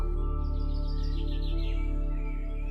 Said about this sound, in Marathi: पक्ष्यांचा मधुर आवाज